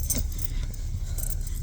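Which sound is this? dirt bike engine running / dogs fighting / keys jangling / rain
keys jangling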